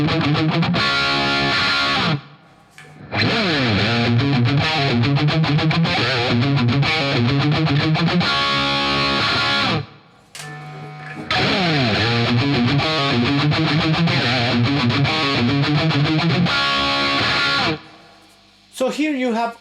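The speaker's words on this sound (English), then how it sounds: "here you have all the gain in the BE channel. The gain is maxed, and you have a little bit of hiss, but it's super heavy right now" A Friedman BE-100 DLX guitar amp on its BE channel with gain maxed pours out loud, heavily saturated distortion as chords and riffs are played, with brief gaps and a little hiss between phrases.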